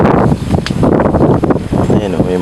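Gusty wind buffets the microphone in an outdoor string bean garden, a rough, loud low rumble that keeps surging under a person talking throughout.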